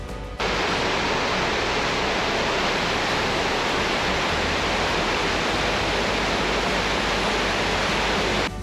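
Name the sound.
Temperance River Falls waterfall flowing into Lake Superior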